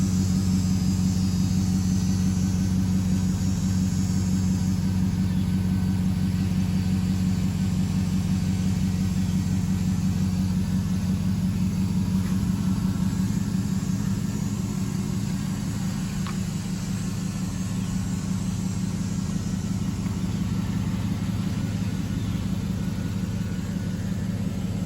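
A Chevrolet Silverado pickup truck's engine runs steadily nearby, a low, even rumble with a constant hum that dips slightly partway through and carries on without voices.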